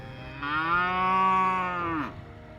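A cow moos in a field in Georgia, one long, loud, close low call lasting about two seconds, heard alone with no talk.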